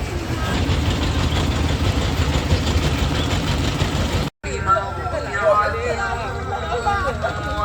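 A motorized mining boat engine drones steadily with a dense, broadband rumble while crossing open sea, cut off abruptly near the middle before a busier mix of engine noise and voices resumes. People talk throughout.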